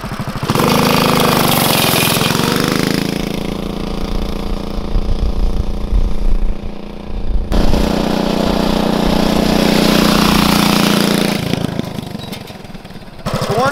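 A Coleman CT200U mini bike fitted with performance parts roars close up during a top speed run, holding a loud, steady engine drone that briefly dips and then climbs again.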